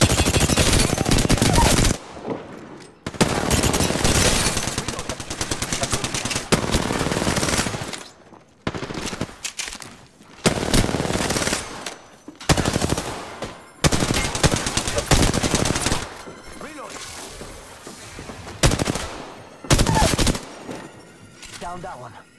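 Bursts of automatic gunfire from Apex Legends, several loud rapid volleys separated by short pauses, with some quieter shots trailing off toward the end.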